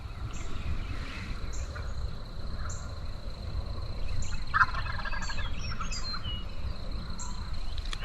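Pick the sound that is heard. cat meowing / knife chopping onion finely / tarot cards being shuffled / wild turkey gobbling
wild turkey gobbling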